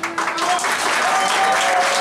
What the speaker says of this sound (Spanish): aparte los aplausos para David Trejo, quien nos deja para siempre la competencia